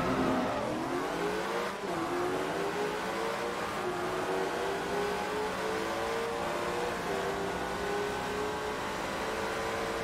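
A GT3 Cup race car engine in Forza Motorsport 2 revs hard and steady for ten seconds, its harmonic pitch sweeping up through the gears with a brief dip near the two-second mark, loud and close with no talking.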